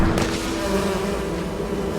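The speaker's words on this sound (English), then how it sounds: "He took the killer beehive and threw it over." A dense swarm of killer bees pouring from a thrown beehive, a loud, continuous droning buzz that stays close and steady throughout with no voices.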